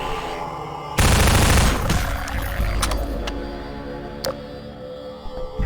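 Automated turrets firing in Half-Life 2 VR, a sudden loud burst of rapid gunfire that rattles on for about a second, then fades into scattered clanks and sharp metallic snaps over a lingering mechanical hum.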